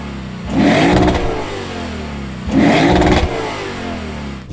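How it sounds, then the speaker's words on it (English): A 2023 Lexus IS500 V8 engine revs hard twice, roaring up and settling back to a steady idle between bursts, close and loud. "So you have a beautiful sounding engine, lots of power in this engine"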